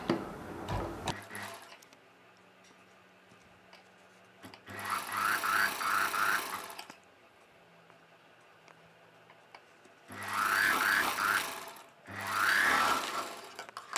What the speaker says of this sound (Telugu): అంచుని ఫోల్డ్ చేసి కుట్టు వేసుకోవాలి.